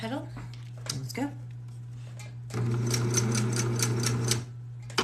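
A sewing machine runs a test strip for a couple of seconds in a fast, even rhythm of needle clatter. Brief speech comes first, and a steady hum sits underneath throughout.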